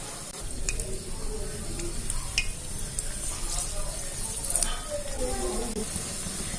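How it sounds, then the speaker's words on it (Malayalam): Chickpea vada (kadala vada) balls, four at a time, frying in hot oil with a steady, even sizzle throughout, with faint scattered pops and occasional soft kitchen movement. "നമുക്കൊരു 4 എണ്ണം വെച്ചിട്ട് നമുക്കിത് ഫ്രൈ ചെയ്തെടുക്കാം."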